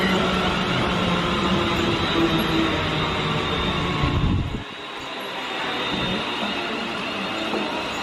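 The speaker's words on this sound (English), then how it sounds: "This is the train for London Euston." A train bound for London Euston rumbles past at close range with a loud, broad roar that suddenly thins and fades to a softer, distant rush.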